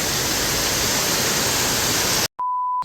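Heavy rain pours down in a dense, loud, steady hiss that fills the space, then cuts off abruptly and gives way to a brief electronic beep.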